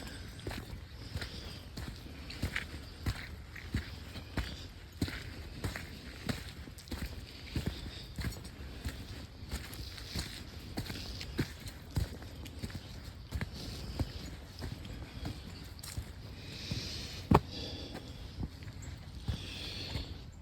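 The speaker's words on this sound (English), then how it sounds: "I'm sure you can hear my footsteps in that mud." Footsteps squelch through mud along a state park forest trail, a steady walking rhythm of soft, close thuds repeating throughout with no talking.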